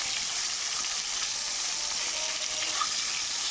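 Pieces of bhola fish fry in hot oil, giving a constant close hissing sizzle with no pauses.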